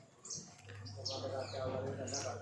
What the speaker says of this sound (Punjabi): ਦੇਖੋ ਕਿੰਨੇ ਪੰਛੀ ਇਹਨਾਂ ਦੇ ਘਰ ਦੇ ਵਿੱਚ ਰਹਿੰਦੇ ਆ